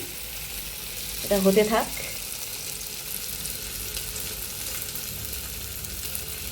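Sweet dough fries in butter in a wok with a steady soft sizzle, while someone speaks briefly over it and a short clanking sound breaks in.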